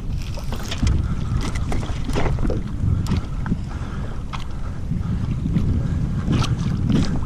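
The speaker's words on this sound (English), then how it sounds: "Wind is picking up." Wind blows steadily over open water around a kayak, buffeting the microphone with gusty rumbles and faint splashes throughout, near and continuous with no talking.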